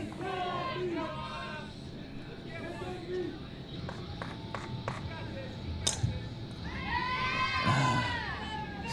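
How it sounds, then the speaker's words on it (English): Crowd at a disc golf world championship chanting and cheering in rhythmic waves, with shouts rising and falling and a louder swell near the end, heard from the midst of the gallery. "crowd chanting her name"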